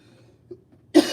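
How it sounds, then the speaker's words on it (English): A single short, sharp cough bursts out near the microphone at the end, after near silence and a faint earlier sound. "I got a cough out of nowhere."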